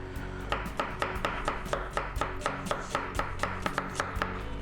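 A kitchen knife thinly slicing an onion on a cutting board, a steady rapid run of crisp, evenly spaced chops from start to finish, close and clear with no talking.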